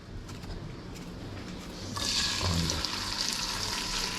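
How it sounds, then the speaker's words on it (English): Okra frying in a good amount of oil, a steady soft sizzle that grows louder and brighter halfway through, close by with no talk. "this have to fry with a good bit of oil, as you can see here"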